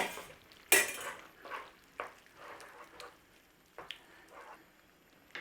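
A spoon scraping and clinking in a pan as tomato paste is stirred into a lamb and mint pie filling, with scattered knocks and soft scrapes over a faint low sizzle, close and quiet.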